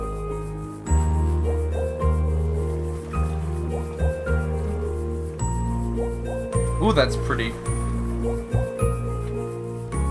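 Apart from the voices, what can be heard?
water waves and bubbling in a music album intro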